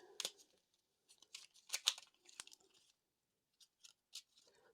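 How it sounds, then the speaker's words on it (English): Quiet, crisp bursts of playing cards riffling and slapping together come in irregular clusters, with short pauses between them and no talking, during a solo board game. "I'm going to go ahead and shuffle these cards up"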